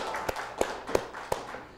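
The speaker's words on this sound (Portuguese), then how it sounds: "Pode bater palma quem quiser" A small audience at a comedy show claps in a few sparse, separate hand claps, about four distinct slaps spaced roughly a third of a second apart, fairly close and without cheering.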